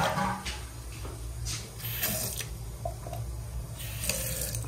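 A toilet flushing in an older bathroom, an ongoing rush and gurgle of water with intermittent splashy surges, moderately close and without speech.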